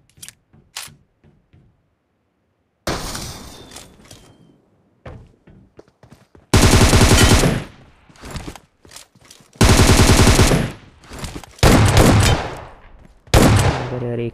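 Gunfire in the mobile battle royale game BGMI: scattered single shots, then several long, very loud bursts of rapid automatic fire, close and dominant, with brief pauses between volleys.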